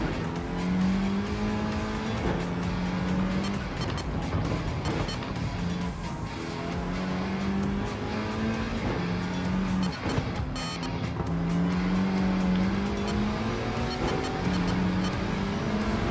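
A Porsche race car in Gran Turismo 7 roars continuously at close range, its engine note rising and falling through gear changes, with tires squealing in the corners.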